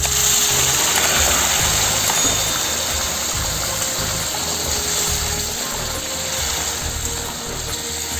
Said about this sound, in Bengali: এই জল গরমটা দিয়ে দেবো